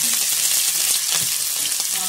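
Finely chopped onion and garlic fry for a mustard greens sabji, a loud close crackling sizzle with light stirring scrapes throughout the short stretch.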